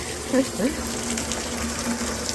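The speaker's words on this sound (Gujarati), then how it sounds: "અહીંયા ટીપમાં ભરવા મૂકી દીધું છે મીઠા પાણીનું" Rainwater running into a storage drum: a steady gushing, splashing flow like water from a pipe, moderately loud and continuous.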